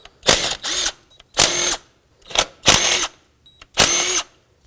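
Four 12 mm fuel rail bolts on a 2003-2007 Nissan Murano are loosened with a power tool in repeated close, loud whirring bursts separated by short pauses.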